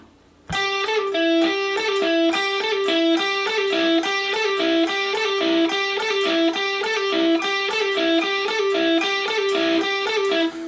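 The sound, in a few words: electric guitar rhythmic pattern with pull-offs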